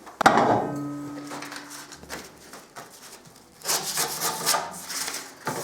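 Triumph Scrambler fork preload adjusters being cut, with a sharp metallic strike and ringing tone at first, then rough rubbing and sawing strokes, quiet at first and louder toward the end.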